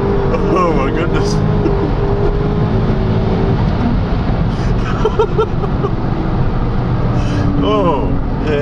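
A tuned car accelerates hard in third gear, its engine roar loud and constant from inside the cabin, with excited voices talking over it.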